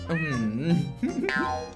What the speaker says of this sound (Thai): ฝากแม่เลี้ยงแมวเปอร์เซียให้